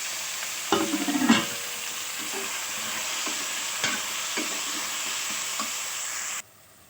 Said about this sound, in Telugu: ఇప్పుడు దాంట్లో మునక్కాయలు వేసేద్దాం.